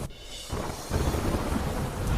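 Heavy downpour with thunder in Tapi district during a flood of the Valmiki river, a dense steady roar of rain that swells louder after a quieter start, with no voices.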